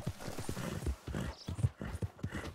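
A horse's hooves clip-clop in a quick, rhythmic gait in the Red Dead Redemption 2 video game, with fairly close but soft steps and no talking.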